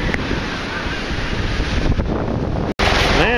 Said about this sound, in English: Windy. Kind of breezy in the land of Nada today.